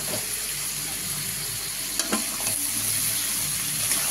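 Spices, salt, chili powder and green chilies sautéing and being stirred in a pan for a taro and fish curry: a constant bright hiss of frying oil with a few soft spoon scrapes, close and steady.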